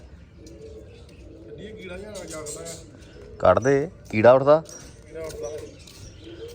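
Pigeons kept at a rooftop loft coo in two loud bursts in the middle, with softer bird sounds and people talking nearby throughout.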